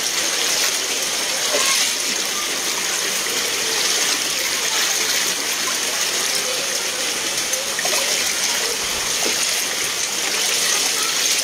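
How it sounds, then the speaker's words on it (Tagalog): Floodwater rushes past houses in a steady, loud, broadband roar that continues without pause throughout. "Baha na."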